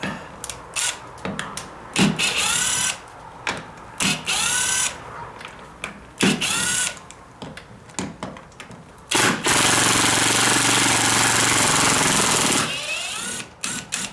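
Power drill backing screws out of a front door hinge, loud bursts of whirring with short pauses and a long sustained run near the end, close to the microphone.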